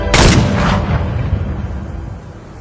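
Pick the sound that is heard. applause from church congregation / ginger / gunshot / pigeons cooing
gunshot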